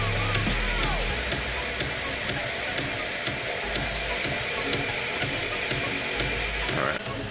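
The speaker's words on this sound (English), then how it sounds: "you want barely any water to come out. It should be a nice mist" Fine water mist spraying on a Brodbeck waterfall platen attachment for a belt grinder, a continuous loud hiss with a hint of machine hum, cutting off abruptly near the end.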